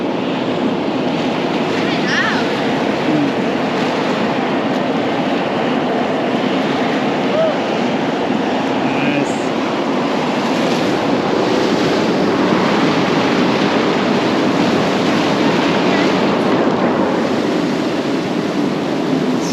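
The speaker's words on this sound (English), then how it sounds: "It's so loud, the volcano." A volcano vent on Simbo Island roars with a loud, steady, broadband rush like strong wind or surf, unbroken throughout and close by.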